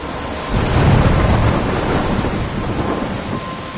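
Heavy rain pours continuously in a thunderstorm in the game Life is Strange, with a deep rumble of thunder rolling in near the start and fading under the steady downpour.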